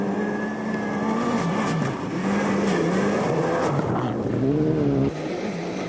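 Tommy Mäkinen's rally car races on the 2001 Rally Sweden stage, the engine loud and close with repeated rising and falling revs through gear changes and a sudden cut near the end.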